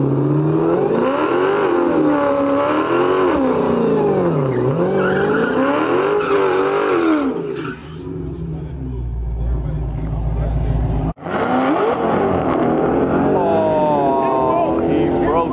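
A Honda Civic and a Nissan GT-R race hard, loud engines revving and wavering in pitch with tire squeal, then a brief drop-off before the roaring resumes. Voices can be heard over the engines.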